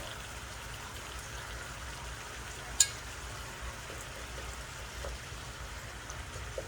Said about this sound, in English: I'm just going to add water in like that